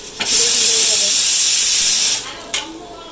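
A pressure cooker whistles while fish dal cooks on the stove: one loud, sharp, sustained hiss of escaping steam lasting about two seconds, then a brief short puff, close by.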